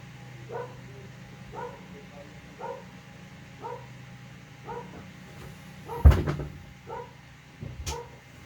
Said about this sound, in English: Dogs are barking at someone.